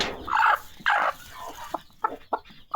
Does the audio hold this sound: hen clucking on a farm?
yes